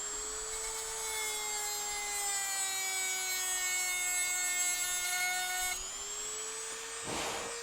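A small motorized tool whines shrilly as it files down the corners of a 3D-printed PLA crossbow, running steadily, then cutting out briefly before a short scraping burst and a restart.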